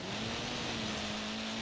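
A Citroen DS 23 rally car in Forza Horizon 4 holds a steady, loud engine drone at an even pitch throughout.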